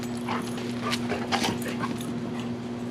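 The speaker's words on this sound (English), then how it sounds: "Dogs! Seriously? Give it a break for a second?" Several dogs bark and whimper in short, scattered bursts at moderate distance, with a steady low hum running underneath.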